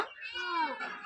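A cat gives one clear, close meow, drawn out and rising then falling, lasting about a second in a quiet village home.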